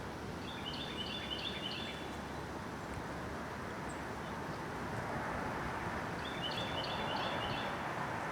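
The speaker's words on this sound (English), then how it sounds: "hearing that warbler up there chirping" A warbler chirps outdoors, two brief high trilling bursts at the start and end, faint and distant over a steady low rumble of traffic-like background noise.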